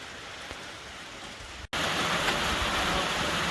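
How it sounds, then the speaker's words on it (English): Steady rain pours down as a dense hiss beside a Weber kettle grill, dropping out for an instant before returning louder and heavier; no voices. "Sorry about the rain, it's a little loud,"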